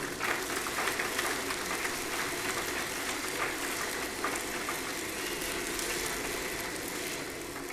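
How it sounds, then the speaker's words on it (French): Audience at a company's 20th anniversary celebration applauds as a staff member is called up, a broad continuous patter of many hands, moderately distant and fairly even, slowly thinning toward the end. "sous vos applaudissements, s'il vous plaît"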